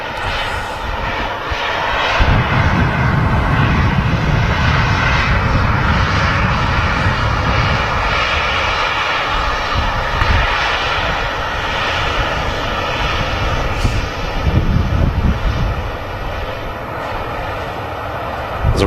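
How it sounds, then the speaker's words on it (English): A Ryanair Boeing 737-800 jet at Manchester Airport, loud continuous engine roar with rumbling low end and whining turbine tones, sustained throughout at close range. "There's a Ryanair 737-800 series."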